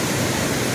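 Flowing water at a waterfall, a steady broadband rush with no break over a very short stretch.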